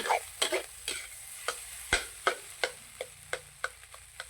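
Shallots frying in a pan for egg fried rice, with a quick run of sharp spatula scrapes and taps against the pan over a light sizzle, close and fairly rhythmic, no voices.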